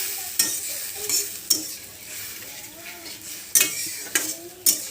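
Cumin, turmeric, coriander, salt and dried chili fry in a pan, the soft sizzle broken by several sharp metal clanks and scrapes as a utensil stirs them.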